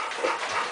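A dog on a farm pants briefly with a soft whimper, one short breathy burst heard close and alone.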